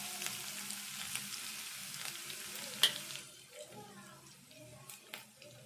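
Garlic drops into hot oil for tempering, giving a soft, steady sizzle and frying hiss with occasional stirring clinks, low in level as a voice talks over it.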